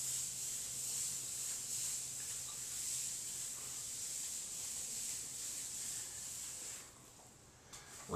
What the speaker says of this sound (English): we're going to scrub lightly the entire area that we just grouted